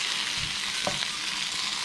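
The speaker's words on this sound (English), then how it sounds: "my pumpkin's just been frying away there in those spices" Pumpkin fries in spices with onion, garlic and ginger paste, giving a steady close sizzle with a faint clink of stirring partway through.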